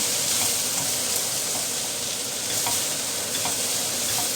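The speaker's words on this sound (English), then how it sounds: "So I'm going to stir that in." Japchae sizzling loudly in a hot pan while being stirred, a dense continuous fry with occasional scrapes and clinks, close up and without talk.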